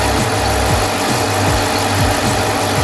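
Smittybilt 2780 air compressor running while inflating a tire: a loud, constant motor drone with a steady rapid pulsing chug, close up and alone without talk.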